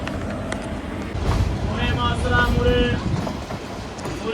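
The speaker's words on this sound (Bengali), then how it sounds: "ট্রেন এখন ছেড়ে বেড়াচ্ছে" Train rumble and rattling wheels as it pulls away from New Farakka Junction station, with a brief horn-like tone mixed into busy background chatter.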